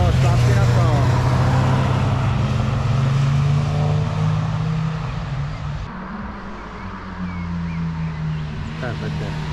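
A car drives past nearby, its engine hum steady and loud, then fading away as it moves off, while people talk over the noise.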